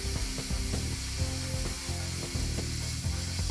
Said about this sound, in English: The nozzle may be placed on the workpiece for ease of cutting.